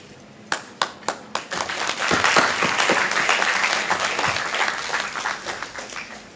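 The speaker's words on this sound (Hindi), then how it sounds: "एक बार जोरदार तालियों से दीप प्रज्वलन में" A gathered audience breaks into loud applause during a ceremonial lamp lighting, starting with a few separate claps that swell into sustained dense clapping and then thin out toward the end.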